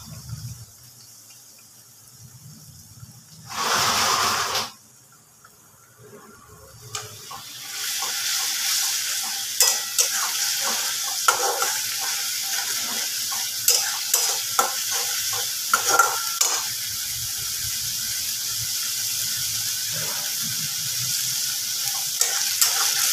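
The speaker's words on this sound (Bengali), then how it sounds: "মশলাটা যখন কষাচ্ছি তখন আমি এর মধ্যে দিয়ে দেব একটু ঘি।" Masala being stir-fried with ghee in a pan for a milk chicken dish: a short burst of noise, then a continuous loud sizzle with repeated spatula scrapes and stirring, close by, no voices.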